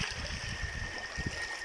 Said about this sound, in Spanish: Este es el río Santo Domingo